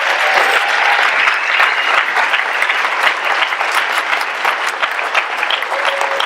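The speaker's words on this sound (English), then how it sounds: "Let's give him a round of applause as he comes," A church congregation gives steady, loud applause as a new president is introduced, dense clapping filling the room for several seconds without a pause.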